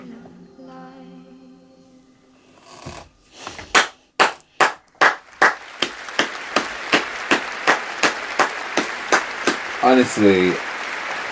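A person at home claps along alone, a run of sharp, loud, evenly spaced claps that gradually soften, with a voice talking before and near the end.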